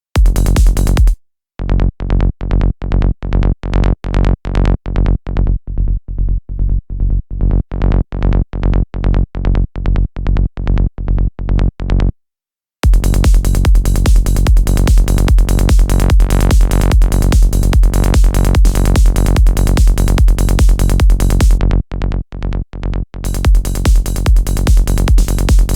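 Classic bass preset from a Vital synth preset bank, playing a loud, punchy bass line of rapid repeated staccato notes with brief gaps, full on low end and no voices.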